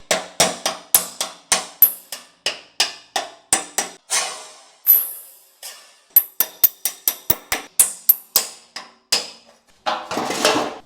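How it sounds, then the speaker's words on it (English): A panel knife tears a body panel off a Ford Cortina at its spot welds: a long run of sharp, ringing metallic blows, mostly evenly spaced, with a brief pause midway and a rougher scraping burst at the end. "we can get that panel knife back under here, and this should just tear right off"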